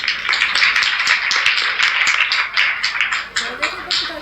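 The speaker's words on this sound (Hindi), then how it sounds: "ताली बजाइए।" Audience clapping at a Shrimad Bhagwat Katha religious gathering in New Delhi, a steady patter of many hands for several seconds with scattered louder claps, mixed with crowd murmur.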